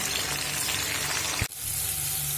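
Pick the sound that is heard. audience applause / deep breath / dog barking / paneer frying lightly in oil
paneer frying lightly in oil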